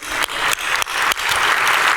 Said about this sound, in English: let's clap it up for these 14 OGs